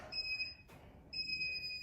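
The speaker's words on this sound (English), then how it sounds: "Stop buzzer." Electronic workout timer buzzer sounding two steady, high-pitched tones, the first about half a second and the second after a short gap, moderately quiet and alone with no talking.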